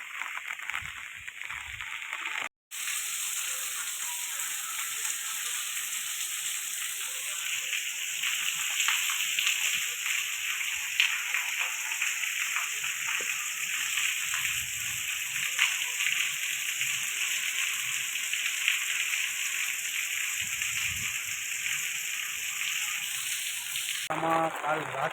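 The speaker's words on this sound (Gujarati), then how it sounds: "કાલ રાતથી વરસાદ ફૂલ ચાલુ જ છે અને અટાણના પણ વરસાદ ફૂલ આવે છે" Heavy rain pours steadily in Rajula, Gujarat, a dense unbroken hiss of falling water and splashing that lasts throughout, with a brief drop near the start and a faint voice at the very end.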